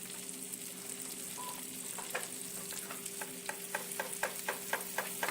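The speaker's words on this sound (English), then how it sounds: "take up some of these potatoes and get those sauteed around. Throw in a few onions." Sliced potatoes and onions sizzle steadily in a pan while a utensil scrapes and stirs them in a series of sharp, regular clicks that grow more frequent toward the end.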